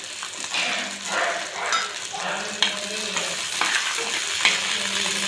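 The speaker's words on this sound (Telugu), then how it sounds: "కొద్దిగా మినప్పప్పు అలానే శనగపప్పు కొద్దిగా శనగపప్పు కూడా వేసి వేయించుకోవాలి" Urad dal and chana dal sizzle and crackle as they fry in hot oil for a chutney, with steady stirring and a few sharp pops and clinks of the spoon against the pan throughout.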